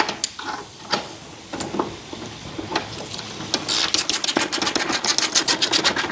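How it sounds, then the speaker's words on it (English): Ratchet clicking while motor mount bolts on a Chrysler PT Cruiser are tightened, at first scattered close clicks and clunks, then a fast steady run of sharp ratcheting strokes near the end. "We snug that bolt down and we snug that one down."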